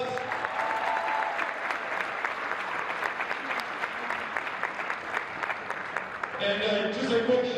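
Sustained applause from a school crowd for a powerlifting team, a steady wash of clapping that turns brighter with cheering and some voices near the end.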